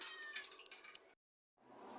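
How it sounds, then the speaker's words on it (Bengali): A cat meows close by, a drawn-out call that breaks off briefly and then resumes softly. "বন্ধুরা, এই বিড়ালটা ঠিক একবার রান্নার সময় চলে আসে।"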